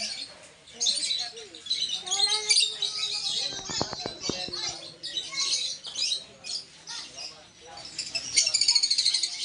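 Many birds chirp and twitter busily together, with people talking under the chatter and a few sharp knocks midway.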